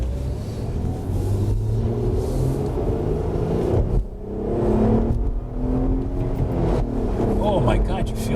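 An Acura car downshifts through a smooth transition and accelerates, its engine droning and rising in pitch under steady cabin rumble, with a brief dip partway through before the revs climb again.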